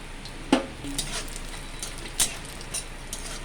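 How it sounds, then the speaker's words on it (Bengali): Lentil badi fried with cumin in a kadai, a soft steady sizzle with a few sharp clinks of a utensil against the pan, close and fairly quiet. "আমি তার জন্য প্রথমে কড়ায় 5-6 চামচ আমি জিরেটা আছে, 2 মুঠো বড়ি আমি ভেজে তুলে নেব।"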